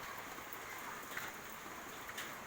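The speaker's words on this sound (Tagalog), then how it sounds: "Hanggang ngayon umuulan pa din." Steady rain falls in a dense, even hiss, faint and continuous with no voices over it.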